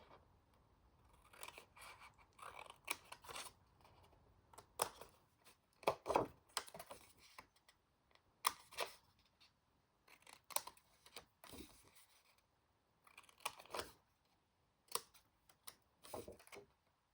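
Scissors snip through a single-sided 12x12 sheet of patterned paper, cutting out the four corners in repeated short crisp bursts with pauses between, close and quiet.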